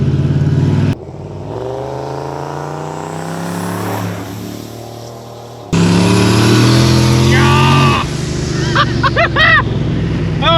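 Turbocharged, nitrous-fed 600-horsepower Lincoln Mark VIII accelerating hard: a loud engine roar climbs through the revs, cuts off, then bursts back in at full force, with excited voices over the top near the end.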